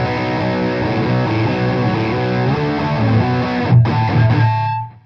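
Electric guitar runs through a Wampler Ratsbane distortion pedal with the distortion turned up, playing a loud, gritty riff of sustained notes and chord changes that fades out at the end.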